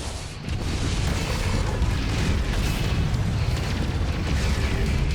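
Missile explosion during mech combat in MechWarrior 5, with a Corsair Black Pearl mech facing a pirate gunboat. A sudden loud burst half a second in swells into a sustained, heavy rumbling roar that carries on to the end.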